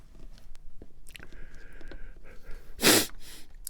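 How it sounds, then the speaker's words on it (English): A person with hay fever sniffs while carving a wood spirit, giving a sharp, close, loud sniff near the end amid faint small clicks and breaths. "Excuse the sniffing."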